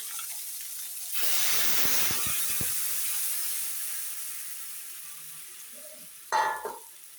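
Vegetables hit a pan of hot black mustard-seed tempering with a loud burst of sizzling, then settle into a steady hiss with scraping stirs, ending in a sharp spike of fresh sizzle; the dish uses eggplant, tomato and ripe jujube.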